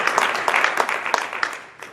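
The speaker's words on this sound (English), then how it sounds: "Give them a round of applause." Brief scattered clapping from the audience at a Fulshear, Texas city home rule charter meeting, a short patter of hands that thins out toward the end.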